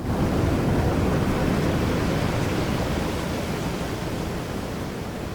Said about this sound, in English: We will generate the transition sounds through 11 labs.